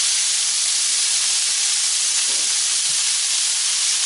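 Cubes of chopped pork sear in a stainless steel frying pan for pork adobo, giving a steady, loud broadband sizzle that holds evenly throughout with no talking.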